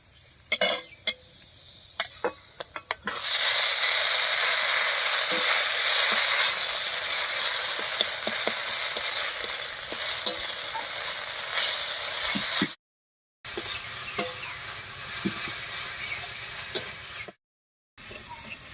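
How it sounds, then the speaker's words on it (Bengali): Ground kharkol leaf paste fries over a tempering of black cumin and dried red chillies. A steady, close sizzle with occasional light stirring clicks runs for most of the stretch, broken by two brief silent gaps. "ফোড়নের উপরে পাতা বাটাটা দিয়ে একটু নাড়িয়ে নিয়েছি"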